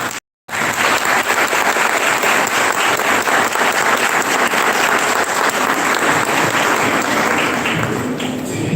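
A church congregation at a festive Mass honoring Saint John Bosco gives the choir a long, loud round of dense applause, continuous and enveloping, after a brief silence at the start.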